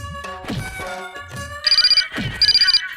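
A phone ringtone trills in two short bursts of rapid electronic pulses, interspersed with thuds and knocking sounds nearby.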